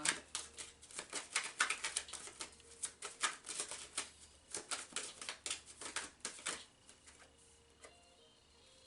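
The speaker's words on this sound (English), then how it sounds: "I'm going to pull a card to see what your mood is right now." A tarot deck is handled and a card pulled, giving a quick run of soft, papery shuffling flicks and taps. The sound is close and quiet, with no speech.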